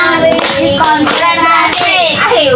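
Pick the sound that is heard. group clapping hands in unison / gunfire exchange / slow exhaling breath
group clapping hands in unison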